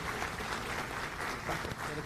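A crowd applauds at a book launch, a steady wash of many hands clapping at a fairly faint level, continuous across the moment with no clear voices.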